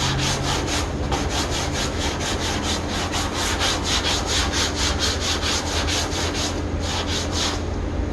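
Steady, rapid back-and-forth sanding strokes rasp against the sheet-metal body of a 1959 Chevrolet Apache Fleetside truck, close and continuous for the whole stretch, with a faint hum beneath and no voices.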